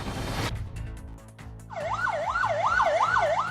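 An ambulance siren wails in a steady rising-and-falling pattern on a road in Thanjavur district, Tamil Nadu, loud and continuous over traffic rumble after a brief noisy start.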